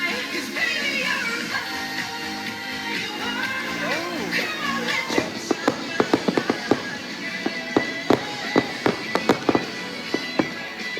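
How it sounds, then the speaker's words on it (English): Fireworks pop and crackle at a Dollywood theme park night show, starting as a faint hiss under music and then bursting into a run of sharp, moderately distant bangs in irregular clusters. "Love the fireworks and drone show this year."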